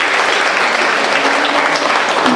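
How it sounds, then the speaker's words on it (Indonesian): Loud, dense applause from a church congregation at a worship service, a continuous wash of clapping throughout. "Kasih dia tepuk tangan yang terbaik."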